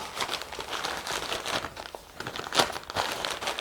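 Newspaper crinkles and rustles up close as it is crumpled and folded into a small bundle, a continuous papery crackle with louder crunches.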